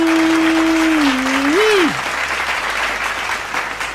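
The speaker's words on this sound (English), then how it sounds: "clap it up for Mike" Crowd applause fills the space loudly and steadily, while a sustained tonal whine slides and drops early on before the clapping continues alone at a slightly lower level.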